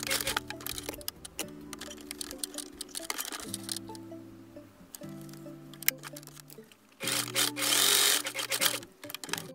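A sewing machine stitches fabric for a homemade fake breast prosthesis in close, loud bursts of rapid mechanical clatter, with a sharp louder run near the end, over background music.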